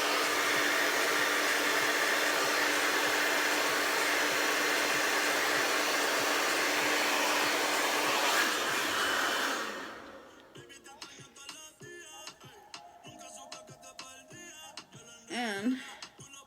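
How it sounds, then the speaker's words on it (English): A hair dryer blows steadily and loudly for about nine seconds and then switches off. Faint rustling and handling noises follow in the quiet. "I'm blow drying my ass."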